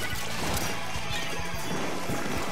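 The Rainmaker shield bursting in a Splatoon 3 event match with a modified Rainmaker that blasts in three directions: a loud, sustained crash with repeated heavy thumps and splattering, and no voices.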